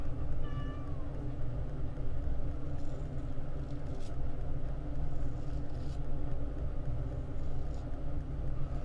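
A small female cat meows briefly near the start, a rising-falling cry close to the mic, over a steady low engine-like rumble that continues through the rest of the clip.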